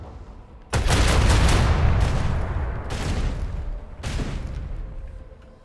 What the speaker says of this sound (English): Another salvo!